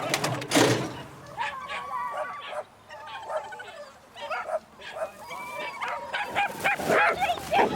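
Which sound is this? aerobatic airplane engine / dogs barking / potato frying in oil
dogs barking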